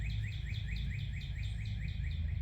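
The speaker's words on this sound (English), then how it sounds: "I'm not even sure what bird that is that's making that sound." An unidentified bird calls outdoors in spring, repeating a short, rising chirp in a quick, even series about twice per second against a low background rumble. No one speaks.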